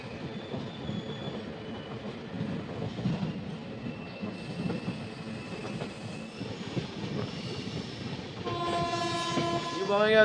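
A Vivek Express passenger train rumbles steadily on the rails near Kottayam station, with a horn sounding toward the end.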